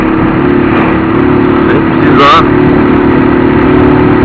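A motorcycle engine with its air filter fitted idles and revs steadily, a throbbing mid-pitched drone with one brief sharp rise, while someone talks close by over it.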